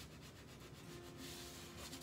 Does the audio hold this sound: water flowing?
no